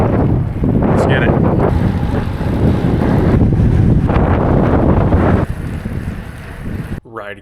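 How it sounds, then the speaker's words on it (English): Strong headwind buffets the microphone during a road bike ride, a loud, continuous roaring rumble up close that eases slightly near the end before cutting off. "some crazy headwind halfway through"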